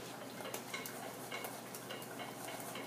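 Egg being beaten into chai brownie batter, quick rhythmic tapping and scraping of a utensil against a bowl, steady and fairly soft, no talk.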